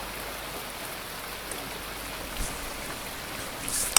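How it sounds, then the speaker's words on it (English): A steady hiss of running water fills a room in the game Lucky Tlharlerwa: Zombie Rampage, a constant rain-like wash with no breaks, at moderate loudness. "could you please, for the love of God, get rid of the water sound?"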